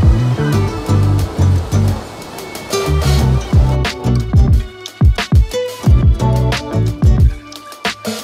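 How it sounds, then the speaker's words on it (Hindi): Heavy rushing water at Niagara Falls, up close to the falling torrent, with a dense, continuous roar that swells and dips while loud splashy bursts break through. "तुम देख सकते हो कि पानी कितनी स्पीड ना गिर रहा है"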